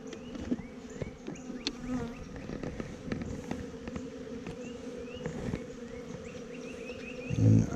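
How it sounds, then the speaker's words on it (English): Dense, steady buzzing of many honeybees around the entrance of a nuc hive holding a weak colony, loud and close, with wing whines passing the microphone. "I wish you could see how many bees are just streaming in"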